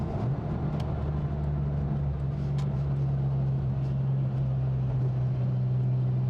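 A Gunther Werks Porsche 993 Coupe engine drones in a low, steady tone as the car picks up speed, with the pitch rising slightly early on under a constant road roar.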